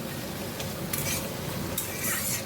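Bitter gourd (karela) fries in a pan in a home kitchen, giving a faint, steady sizzle with a few brief stirring scrapes, no talk.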